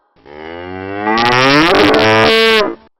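One long, deep moo from a cow, close and loud, rising in strength and roughness toward the middle before cutting off abruptly.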